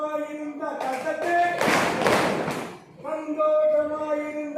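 Hand clapping along to a group song in Tamil, a burst of claps from many people under the singing voices, lasting about a second and a half between sung lines.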